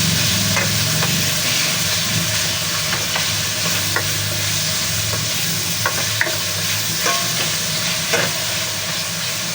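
Tomatoes frying in a pan until their juices come out: a steady, loud sizzle runs throughout, broken by scattered light scrapes and taps of a utensil stirring, with no voices.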